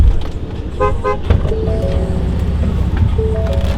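A lifted 2016 Ford F150 Platinum gives two quick, close horn toots as its remote start engages, followed by a low idling engine rumble with faint whines.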